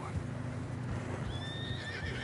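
A horse in Red Dead Redemption 2 lets out a high, wavering whinny over a dense, rumbling background of hooves and wind-like noise, struggling through fresh snow.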